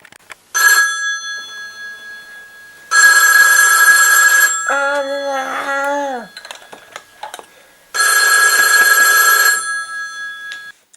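A telephone rings in three loud electronic bursts with pauses between them, in a French reality-show parody made with Playmobil and Littlest Pet Shop toys; a voice speaks briefly between the second and third rings.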